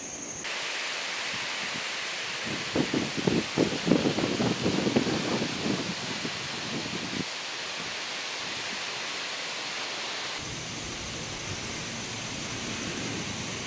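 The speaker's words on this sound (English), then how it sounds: "Listen to the leaves rattling in the wind." Autumn leaves rattle in the wind in a park on a cool September day, a soft broadband rustle that swells into a burst of dry crackling midway, then settles back to a steady hiss.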